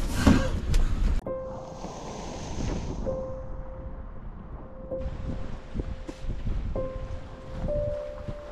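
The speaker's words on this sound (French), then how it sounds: "Bah attends, il y a du vent." Wind gusting over a sailboat at sea on an Atlantic crossing, a steady broadband rush with surf and wind noise on the microphone, broken by brief hums from onboard equipment and faint voices.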